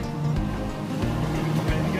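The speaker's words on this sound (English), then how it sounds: "Engine's running and idling perfectly." The engine of a 26-foot Robalo pilot house boat idles at low speed with a steady low drone and hum, close by, under wind and water noise.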